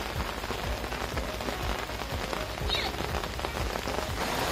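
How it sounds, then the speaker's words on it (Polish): A heavy downpour roars close by during a fishing outing, a dense, unbroken wash of rain pounding surfaces with no let-up. "po ogromnej ulewie, która nas spotkała"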